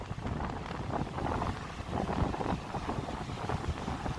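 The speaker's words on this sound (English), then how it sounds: "and very windy." Steady, loud wind buffets the microphone on Bondi Beach in New South Wales, Australia, on a breezy afternoon with the tide coming in, a dense continuous roar with no voices.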